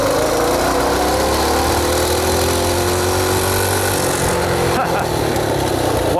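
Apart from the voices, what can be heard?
motorcycle engine revving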